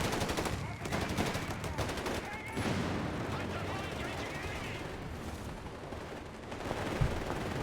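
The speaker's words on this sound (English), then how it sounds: "Bazooka fire again." Dense gunfire from the Company of Heroes 3 strategy game: rapid machine-gun bursts and loud rifle shots crackle steadily throughout, with a sharper blast near the end and a commentator's voice under the battle.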